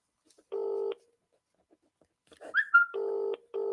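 A telephone dials out on a live call-in show: two short, clear DTMF keypad tones with a brief chirp between them. The sound is isolated against quiet and is moderately loud.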